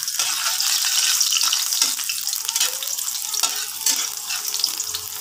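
Ginger fries in a pan at the start of a native chicken stew cooked in coconut milk, a loud, steady hiss and crackle close by with occasional clinks of stirring, no voices.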